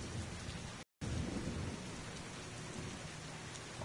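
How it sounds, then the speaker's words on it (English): Steady, dense rain pours with rolling thunder in the video game Heavy Rain, a continuous loud wash of storm noise with a brief dropout of sound partway through. "I think it's just thunder."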